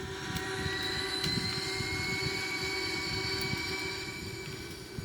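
Airbus A340-313X engines spooling up to takeoff thrust in a flight simulator, a steady loud jet roar with high whining tones, continuous and without talk.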